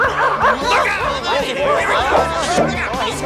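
Cartoon dogs barking and yipping in a noisy jumble as a dog catcher rounds them up, with overlapping excited barks, whimpers and background voices throughout.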